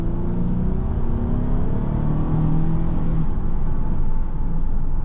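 A 2017 Honda Odyssey minivan's 3.5-litre V6 hums and rumbles steadily as it accelerates smoothly, with a low droning tone rising slightly throughout and no voices.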